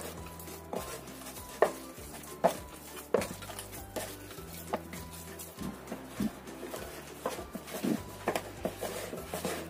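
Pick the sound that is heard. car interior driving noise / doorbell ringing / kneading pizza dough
kneading pizza dough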